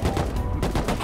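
Rapid AK rifle fire in a video game, a quick string of sharp cracks in a dense burst lasting about a second.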